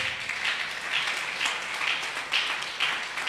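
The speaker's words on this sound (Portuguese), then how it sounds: "Peço uma salva de palmas, por favor" A church congregation claps for its provincial presbyter, a fairly soft but steady round of applause with slight rhythmic swells, continuing for about three seconds.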